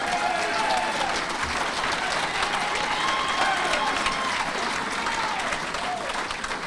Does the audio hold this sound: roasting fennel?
no